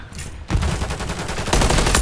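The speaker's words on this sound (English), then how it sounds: "Oh, stop shooting at me, I'm your teammate." Automatic gunfire in the Modern Warfare 3 beta, a rapid, even stream of close, loud shots that begins abruptly after a brief lull and grows harsher in the final half-second.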